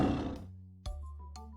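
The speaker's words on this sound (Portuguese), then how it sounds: "Esse é o som do tigre." A tiger gives a short, loud, deep roar that fades out, followed by a brief thud and quieter background sounds.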